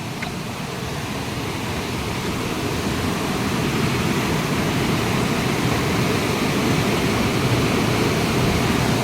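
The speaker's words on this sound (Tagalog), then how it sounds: "Yun ang falls na pupuntahan namin guys." Tagkip Falls pours with a broad, steady roar of rushing water, loud and unbroken, growing slightly fuller partway through.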